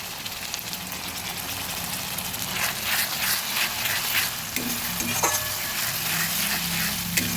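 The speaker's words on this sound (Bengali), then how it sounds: "আদা রসুনটা ভাজা হয়ে গেছে এবার দিয়ে দেবো পেঁয়াজ পেস্ট" Onion paste frying with ginger and garlic in a pot, a loud continuous sizzle close up, swelling midway, with a few metallic stirring clinks toward the end.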